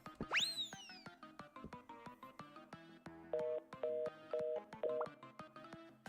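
A phone rings unanswered in the Blue Archive video game as repeated electronic ringtone tones pulse over bouncy game music, with a springy boing near the start and no voices.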